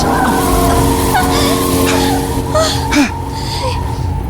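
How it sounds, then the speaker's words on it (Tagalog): A car speeds past on a road, a passing engine and tire rush that swells and fades over a few seconds amid steady background noise. "Ugwa kayo'y sakyanan nga niagi ni Dapita. Nagpakusog sad siya."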